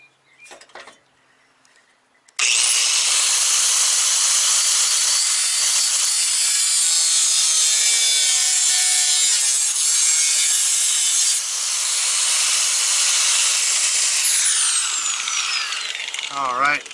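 A power tool cuts through the metal core support of a VW MK2 Golf GTI or Jetta, a loud, continuous, harsh grinding rasp that runs unbroken for about fourteen seconds after a brief quiet start.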